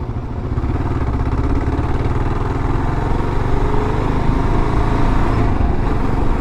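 A motorcycle engine runs loud and close as the rider downshifts, a steady rumbling drone that swells slightly in pitch and power, with some mechanical clatter underneath.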